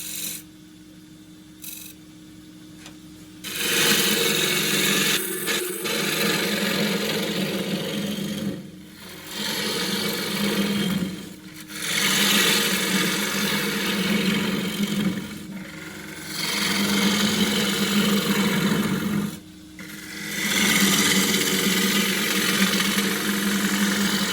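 An ash core saved from a bowl spins on a wood lathe while a sharp spindle-style gouge cuts it, producing a loud, rough scraping rasp in repeated passes, broken by short pauses, over the motor's hum.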